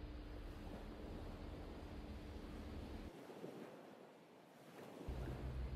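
Ocean waves wash onto a sandy beach in Greece, a continuous broadband surf roar with wind buffeting the microphone, dipping briefly before swelling again.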